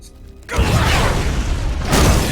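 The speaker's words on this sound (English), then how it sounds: "oh no, explosion" Sudden loud explosion in the intro of the Resident Evil 6 video game, a heavy broadband blast that bursts in after a quiet mechanical opening and keeps roaring and rumbling through to the end.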